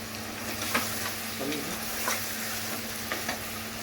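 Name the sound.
tomatoes frying in a pan for Parsi mutton dhansak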